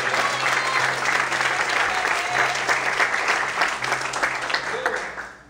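A church congregation claps loudly in dense, continuous applause, with some voices rising underneath, before it fades out at the end.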